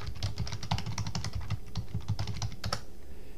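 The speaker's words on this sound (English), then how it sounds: "So I can type in top secret password." Someone types a password on a computer keyboard, a quick, steady run of close clicking keystrokes that stops abruptly near the end, with no voice over it.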